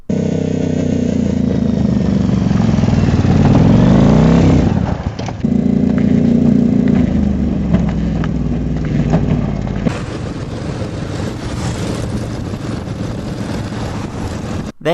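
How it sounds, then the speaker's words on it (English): A motorcycle chariot, a chariot pulled by a motorcycle in place of a horse, roars with a loud, steady engine drone that rises and falls as it revs, with a brief dip midway and no talking. "There's something called a motorcycle chariot, which is basically a regular chariot, except the horse is replaced with a motorcycle."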